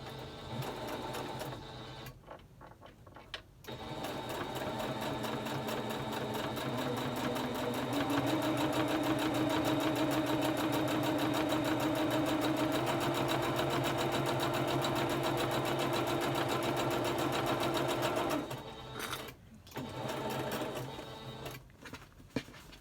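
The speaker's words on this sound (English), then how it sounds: "So we will stitch it really quick on the sewing machine right now." A sewing machine stitches a pleated fabric face mask with interfacing, a steady continuous mechanical whir that runs close and loud for most of the stretch, speeding up briefly in the middle, with short pauses near the start and end.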